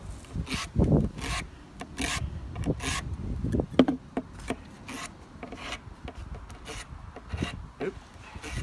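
Rasping strokes of a file sharpening the edge of a putty knife or drywall knife, repeated in a steady back-and-forth rhythm at close range with no talking.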